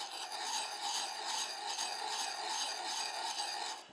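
Knife blade sharpened on a stone in a circular grind along a saber-grind bevel, a soft continuous rasping scrape repeating in even circular strokes, close and quiet, with no talking.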